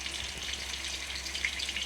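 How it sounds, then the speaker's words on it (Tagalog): An anchovy omelette sizzles and crackles steadily in a hot pan, a soft continuous frying hiss heard up close with no talking. "Ang ganda ng pagka-prito guys."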